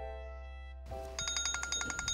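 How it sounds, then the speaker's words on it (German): A mobile phone rings close by, a steady tone followed by a bright electronic ringtone pulsing in quick repeated bursts, with no voices. "Mein Sacktelefon leitet da."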